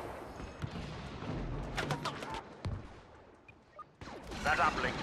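Turret firing in the Star Wars Battlefront beta video game, several sharp blasts and thuds spread across a few seconds amid game noise and faint talk.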